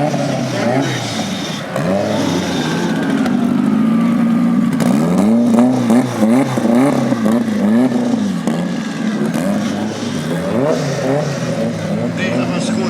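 A 2JZ-powered GTR and an all-wheel-drive K-series car race in Jamaica, loud engines revving and rising in pitch through gear changes, with crowd voices and commentary over the noise.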